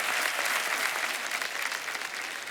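Studio audience applause on The Kapil Sharma Show, a dense, steady wash of many hands clapping close and loud. It holds evenly for the whole stretch and tapers only slightly near the end, with no talk over it.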